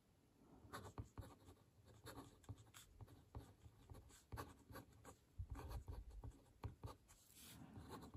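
A fountain pen glides over smooth X17 paper with quick, sweeping strokes, giving close, soft scratchy scrapes in an uneven rhythm of short bursts and pauses, with no talking.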